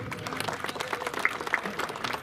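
Players applauding at a sports event opening ceremony, a brief burst of dense clapping from a crowd, moderately near and steady.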